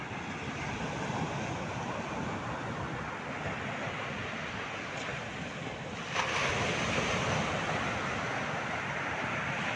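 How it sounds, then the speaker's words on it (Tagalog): Steady roar of strong afternoon surf and rolling waves at Dinadiawan beach, with wind buffeting the microphone, the wash swelling louder partway through. "Medyo malakas po ang alon ngayong hapon na to"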